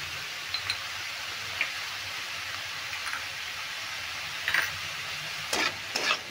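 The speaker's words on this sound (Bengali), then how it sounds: "দেখো ভালো করে নেড়ে ভেজে নিচ্ছি" Sabudana pulao with salt and turmeric fries in a pan, giving a continuous soft sizzle broken by occasional scraping and ticking stirs from a spoon, a few sharper scrapes near the end, heard close with no talking.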